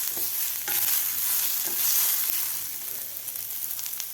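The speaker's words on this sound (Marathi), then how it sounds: "आता कांद्याबरोबर आपल्याला लसूण आणि आलं सुद्धा व्यवस्थित फ्राय करायचं आहे." Onion frying with garlic and ginger in a pan until golden, a loud, close, continuous sizzle with occasional stirring scrapes and no talking.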